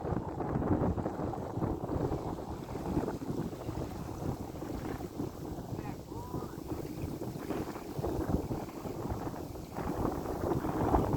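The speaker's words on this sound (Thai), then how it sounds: "ลมแรง" Strong wind buffets the microphone continuously on a boat out fishing, a steady rushing roar with gusty swells and no clear voices above it.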